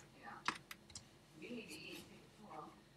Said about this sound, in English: Just typing something for homework.